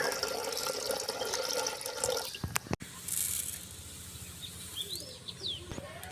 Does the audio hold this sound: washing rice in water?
yes